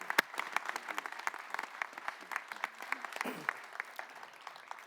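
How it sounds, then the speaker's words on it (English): Audience applause at an Orange County Hall of Fame induction ceremony, a steady wash of many hands clapping with scattered sharper claps, moderately distant and continuous throughout. "Ladies and gentlemen, a round of applause for Bill Steiner."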